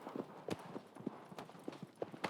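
A horse gallops in Shadow of the Colossus. Quick rhythmic clip-clop hoofbeats repeat steadily at a moderate distance, fairly faint and alone, with no talking.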